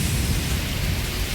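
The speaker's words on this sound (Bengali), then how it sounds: "বৃষ্টি হচ্ছে" Heavy, steady rain pours outdoors under a cloudy sky with lightning, while trees and a coconut palm sway in the wind. It makes a dense, unbroken roar that stays loud and even throughout.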